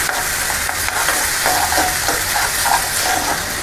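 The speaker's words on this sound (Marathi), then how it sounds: "हे बघा, व्यवस्थित भाजून घेते पहिली" Barnyard millet grains dry-roasting in a hot pan, a steady soft sizzling hiss with faint scraping stirs throughout, close and even in level.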